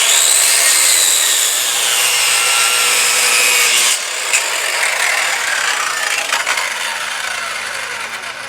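A handsaw cuts through a foam float for lobster traps with steady, close, rasping back-and-forth strokes that run continuously and fairly loud, with a brief pause midway.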